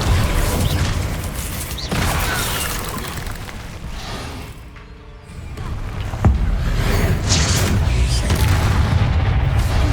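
Magic spell blasts and booming impacts in the Hogwarts Legacy video game, fire and blasting spells going off in a dense, loud, continuous barrage with a brief lull midway before the booms resume.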